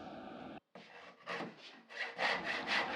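A hand saw rasps through wood, cutting drawer front pieces for a hi-fi cabinet, in steady back-and-forth strokes, starting after a brief pause and growing louder and faster toward the end, with no voices.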